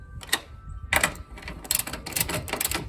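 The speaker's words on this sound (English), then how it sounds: "I'm actually gonna snug them all up first with the wrench." Wrench snugging strut bolts on a 2001 Honda Civic LX during strut replacement, giving close, rapid ratcheting clicks in several quick bursts separated by short pauses, with no talking.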